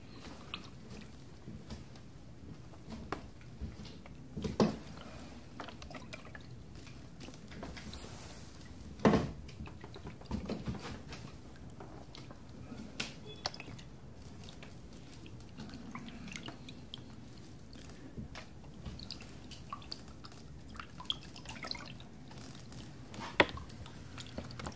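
A wooden boat pushed along a river with a bamboo pole gives soft, intermittent water laps, drips and sloshes, with a few sharper knocks of the pole spaced irregularly over a quiet background.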